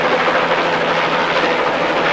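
A helicopter hovers overhead during a high-altitude stunt jump, its rotor and engine making a loud, steady, close roar with a fast pulsing beat and no voices.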